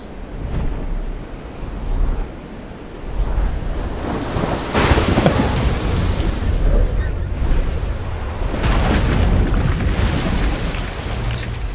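Rumbling explosions in the video game Black Myth Wukong, a loud, deep roar that swells in bursts across the whole stretch like thunder, with a voice faintly present underneath.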